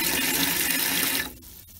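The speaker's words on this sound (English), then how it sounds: "This will allow water into the tank." Water rushing loudly into a header tank cistern after its float is pushed down, a close steady gush that cuts off abruptly near the end, leaving a few faint drips and trickles.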